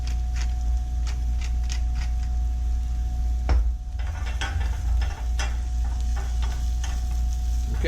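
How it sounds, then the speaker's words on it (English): Soup ingredients sizzling steadily in a pan while a spoon stirs them, with faint clicks and scrapes over a constant low hum and a couple of louder knocks partway through, no talking. "Remember, as you stir it, it cools it."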